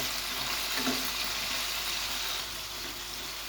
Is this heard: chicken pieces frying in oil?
yes